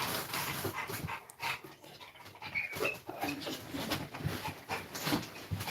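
A dog whimpers and cries in a house, small soft whines scattered through a noisy, rustling background, fairly faint and indistinct amid other household sounds.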